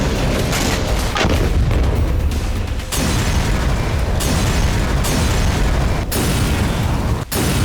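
Heavy explosions from Israeli airstrikes on Gaza's Rafah area and Jenin in the West Bank, a dense, continuous roar of loud booms and rumbling blasts with several sharp hits breaking through.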